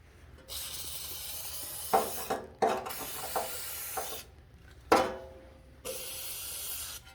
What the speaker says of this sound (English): Let's lube the inside of it a little bit.